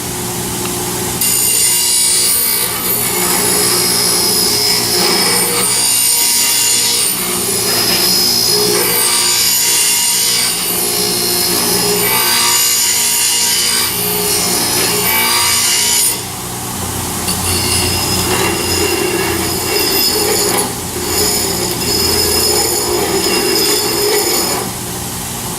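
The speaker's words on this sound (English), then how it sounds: "grind across this edge. It's a similar action." An AGED 240 bench grinder grinds a piece held in pliers, making a loud, continuous abrasive rasp with a steady whine, close up, the tone shifting slightly as the piece is pressed and moved across the wheel, with no voices.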